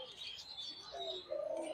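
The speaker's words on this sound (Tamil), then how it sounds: "இது வந்து மாட புறாவா?" Pigeons near the Courtallam waterfalls make soft, fairly faint cooing calls mixed with light chirps, a few short phrases in a row with no talking.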